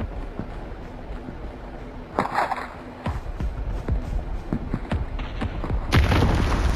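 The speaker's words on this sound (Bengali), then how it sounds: "ক্যারাভ্যান বম ফিট করে রাখছিল" Explosive booms and heavy thuds come from Call of Duty Mobile on the Blackout map after a bomb planted on a caravan detonates. A burst hits near the middle, scattered impacts follow, and a louder blast comes near the end.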